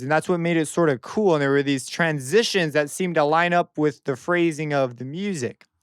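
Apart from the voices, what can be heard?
No distinct noise like a dog, phone or traffic.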